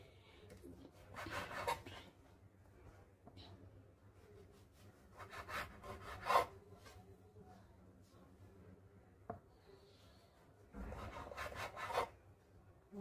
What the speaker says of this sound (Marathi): ब्रेडचा कडा कापून घेऊया।